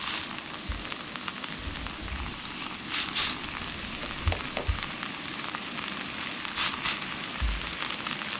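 A scallion pancake with bacon frying in a hot pan, giving a steady, close sizzle and crackle with a few soft bumps and no talking.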